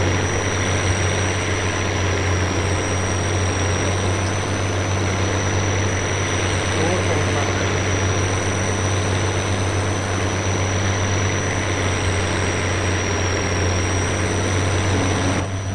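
A tractor engine in Farming Simulator 22, on the East Groningen map, runs at a steady drone for the whole stretch. It stays loud and constant, with no talking over it.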